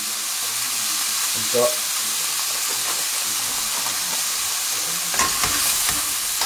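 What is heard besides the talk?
Veal kidney frying gently in a pan with flour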